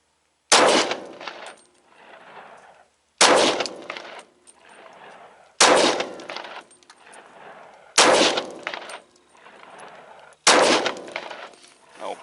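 A Glock 31 Gen4 pistol fires five SIG V-Crown 125 grain .357 SIG rounds. The loud, sharp reports come evenly spaced about two seconds apart, and each rings out in a short decaying tail. No one talks.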